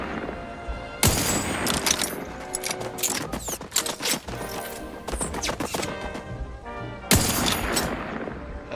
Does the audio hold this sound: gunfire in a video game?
yes